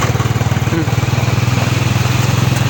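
A motorcycle engine held at steady revs during a riding lesson throbs with a rapid, even low pulse, close and loud throughout with no break in rhythm.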